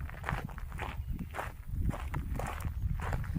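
Footsteps crunch along a gravel road on the way home from a nature walk, a steady walking rhythm close by with light rustle and no talking.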